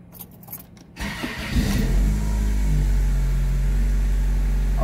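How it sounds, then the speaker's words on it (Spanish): A cold car with its check engine light on is cranked and started; faint rustling and key sounds lead into a brief crank, then the engine catches and settles into a steady, loud idle. "Vamos a encender el vehículo."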